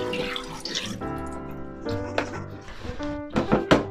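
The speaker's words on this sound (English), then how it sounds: "We're going to run them over cold water," Cold water from a kitchen tap runs over freshly boiled eggs, a steady broadband splashing that shifts as the eggs are moved beneath the stream, with tonal hum and clatter mixed in.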